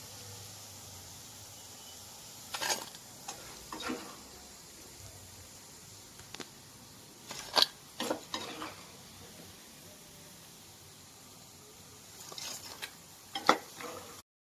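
Onion pakoda frying in hot oil, a faint steady sizzle under scattered sharp clinks and scrapes of a utensil against the pan, with no talking.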